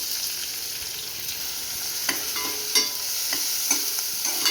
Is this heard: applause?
no